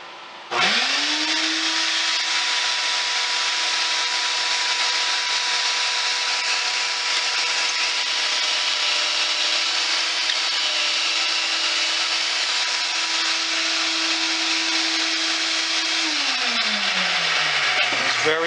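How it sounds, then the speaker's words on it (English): A drill boring a pocket hole into cedar wood, a loud continuous high-pitched whir that spins up sharply, holds steady for about fifteen seconds, then winds down at the end. "Then you're ready to drill your other pocket hole."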